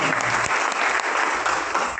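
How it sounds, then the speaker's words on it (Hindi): Loud, dense applause from a meeting audience welcoming a guest to the stage, continuous clapping throughout with no speech over it. "जोरदार तालियों से स्वागत करता हूं"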